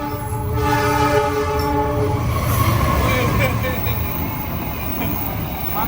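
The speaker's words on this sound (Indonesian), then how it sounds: "Oh ada kereta." A train rumbles past close by in Malang, Indonesia, its horn sounding a sustained chord at the start over the steady roar of rolling wagons.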